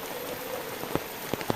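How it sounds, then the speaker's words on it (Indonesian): Light drizzle patters steadily in a cool countryside village, a soft continuous hiss with a few sharper drips standing out near the end. "hujan rincik-rincik di pedesaan, sejuk banget di sini"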